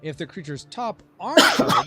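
A sneeze bursts out loudly near the end, right after a person speaks during a tabletop board game playtest with friends.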